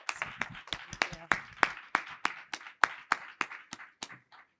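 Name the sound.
audience applause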